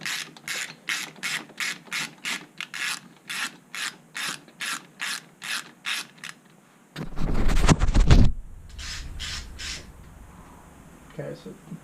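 A ratchet clicks in a steady repeating rhythm on the brake caliper pins of a Suzuki King Quad 400 ATV, then a louder grinding, rubbing burst follows before a few fainter clicks.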